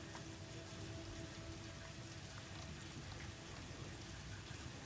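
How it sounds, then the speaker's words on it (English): Steady rain falls continuously in the video game Satisfactory, a soft even patter with no pauses, fairly quiet and enveloping. "I also just noticed it's raining."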